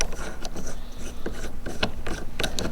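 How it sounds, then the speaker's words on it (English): A T-bolt on a horizontal fishing rod storage rack is unscrewed by hand, giving close, irregular metallic clicks and ratcheting ticks against a faint background hum. "So we're going to loosen up that T-bolt by just unscrewing this here"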